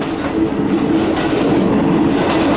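A loud, continuous rumble of a third-class train on the Nam Tok–Thonburi line rolling along the tracks, heard from inside with steady rattling and clatter.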